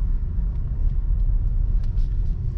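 A 2.3-litre Ford Mondeo Mk4 estate in Ghia+ trim rolls off, its engine and tyres making a steady, muffled low rumble from inside the cabin, with no voices.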